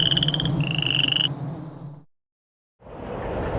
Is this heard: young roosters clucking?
no